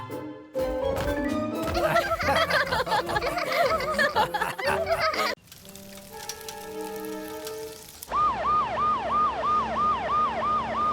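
A cartoon fire truck's siren wails loud and close in a rising-and-falling cycle after bright background music and a brief quieter stretch, repeating steadily until the end.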